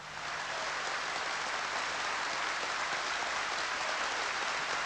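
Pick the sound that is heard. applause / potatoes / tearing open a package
applause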